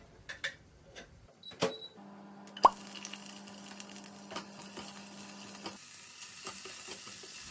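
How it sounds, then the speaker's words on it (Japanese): Thawed brown rice and king oyster mushrooms stir-fried in sesame oil: a few clattering taps and plops, then a steady soft sizzle with scraping stirs running throughout. "全部入れて炒めます"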